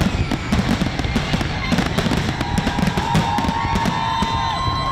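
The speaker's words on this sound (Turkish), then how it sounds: "New Yorklular 14 ayın ardından normale dönüşü havai fişeklerle kutladı." Fireworks bursting over the Statue of Liberty in New York at night, a dense run of sharp pops and crackles at steady distance, continuous for the whole stretch with faint crowd murmur beneath.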